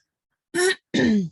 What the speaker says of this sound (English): Excuse me for clearing my throat here.